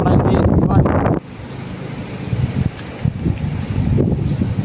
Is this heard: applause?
no